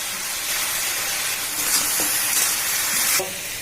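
Capsicum and green chillies hit a hot pan for Indian-style pasta, giving a steady broad sizzle that swells louder midway with a few stirring scrapes, then drops back abruptly near the end.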